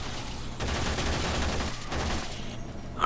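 Enemy shotgun fire in the Warframe video game, a dense sustained burst of rapid gunfire over a couple of seconds, loud and close, then fading out.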